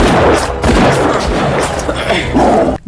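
Gunfire in an action film erupts as henchmen shoot from below, loud dense bursts of shots and booms piling over each other without pause until a sudden cutoff.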